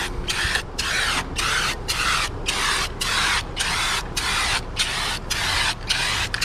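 A spray paint can hissing onto a Lexus IS 300 in regular short bursts, about a dozen close, even sprays separated by brief pauses.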